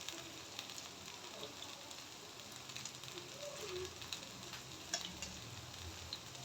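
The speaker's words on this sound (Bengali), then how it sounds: "দেখেন আমি এভাবে বড়াগুলো ভেজে নিচ্ছি।" Pointed gourd fritters frying in hot oil, a soft continuous sizzle and crackle heard close but faint, with no talking.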